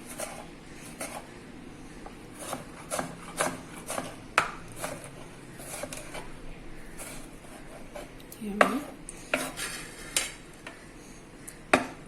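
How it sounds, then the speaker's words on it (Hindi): A knife chops through tomato on a board, irregular sharp taps spaced a second or so apart, close and clear, with no voices. "ये मैं टमाटर को इस तरह रख के वो चॉप करती हूँ।"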